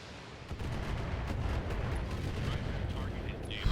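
Heavy mech weapons firing in the BattleTech video game, a dense continuous roar of cannon and missile fire starting around half a second in and sustained at high level, with a low rumble underneath.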